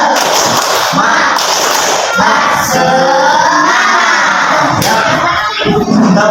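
A class of children performs a rhythmic spirit clap together, loud and close, with shouting and chanting voices mixed in throughout and a few sharp thumps.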